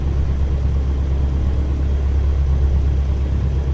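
A Cessna 152 piston engine idles on the ground, heard from inside the cockpit as a steady, loud, low droning rumble with no break.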